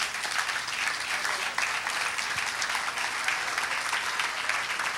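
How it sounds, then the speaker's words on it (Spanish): A church congregation claps together in steady, continuous applause, moderately loud and filling the whole stretch with dense overlapping hand claps. "A su nombre, palmas al Señor."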